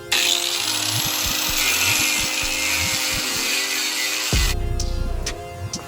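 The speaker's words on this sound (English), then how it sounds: "So I'm gonna chop this little piece of wood in the middle." A small piece of wood is cut with a power saw in a garage, a steady loud buzzing whine with repeated rhythmic strokes that stops near the end, followed by clatter and light handling noise.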